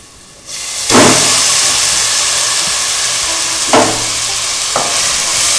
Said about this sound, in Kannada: ಈ ಥರ ಮಾವಿನಕಾಯಿನ ಹಾಕ್ಬಿಟ್ಟು ನೀಟಾಗಿ ಎಲ್ಲ ಕಡೆಗೂ ಮಿಕ್ಸ್ ಮಾಡ್ಕೊಳ್ಳಿ